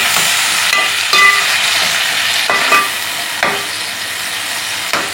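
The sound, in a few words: drumstick leaf stir-fry sautéing in a pan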